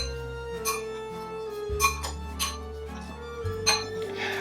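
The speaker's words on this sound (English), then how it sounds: "go ahead and give it a nice little stir" A spoon stirs loose prosperity tea ingredients in a glass or ceramic container, producing light repeated clinks and taps in an uneven rhythm, close and soft, with no talk.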